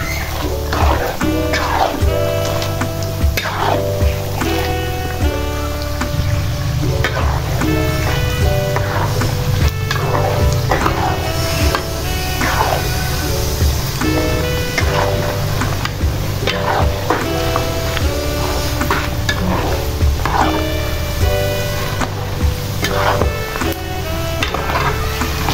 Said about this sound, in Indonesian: Kalau kita goreng kacang bawang, kita harus telaten mengonseng-ngonseng ya bun, atau mengaduk-aduk ya